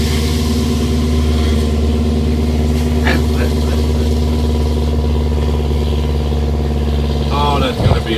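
Heavy MCI bus diesel with a Jake brake engaged on a downhill, a loud steady low droning rumble that holds throughout, with a brief whine and sweep near the end.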